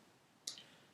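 A single sharp mouse click on a software button, brief and fairly faint against a quiet background.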